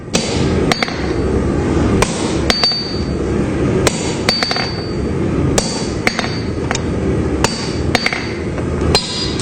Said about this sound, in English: we're going to start forging the bevel on the blade